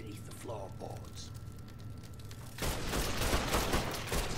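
Video game gunfire in Mafia III, a burst of rapid shots erupting after a stretch of muffled action and dialogue, loud and dense through the final seconds.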